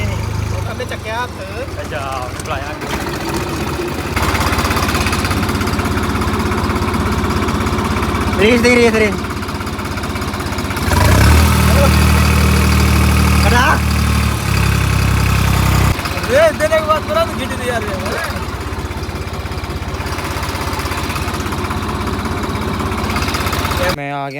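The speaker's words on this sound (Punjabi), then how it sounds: "ਉਹ ਟਰੈਕਟਰ ਦੀ ਆਵਾਜ਼ ਰਹੀ ਸੀ" A tractor engine idles steadily on a farm, a low continuous rumble that swells louder for a few seconds midway, with people talking over it throughout.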